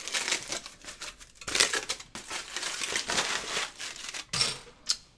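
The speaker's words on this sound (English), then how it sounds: "Sorry, clear these glasses off this aluminum foil." Aluminum foil on a bar top crinkles and crackles as drinking glasses are lifted off it, with a run of close, dry rustling bursts and short pauses between them.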